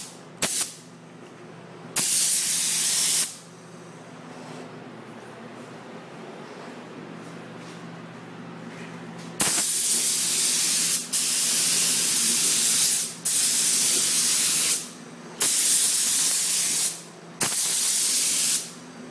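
Spray gun painting the door jambs of a truck: several loud bursts of hissing spray, each lasting one to a few seconds, separated by quieter stretches of background hiss.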